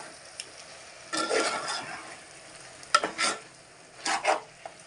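Tomato pieces hit hot oil in a curry pan, giving bursts of sizzling and stirring in a few loud swells between quieter stretches, with no one talking.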